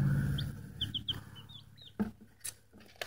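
Several short, soft chicken clucks and peeps come in quick succession, with a few sharper taps and rustles between them, close and fairly quiet.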